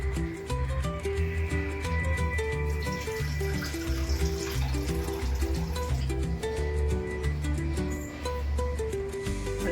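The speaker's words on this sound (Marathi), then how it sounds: "वाटीभर पाणी घातलेलं आहे मी इथं" Water runs steadily into a pan of jaggery, a constant splashing stream with tonal background music playing throughout.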